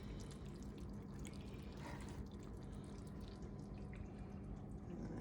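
Soft liquid dripping and trickling steadily as beef bone broth passes through a coffee filter, close by, with a low background hum and no talking.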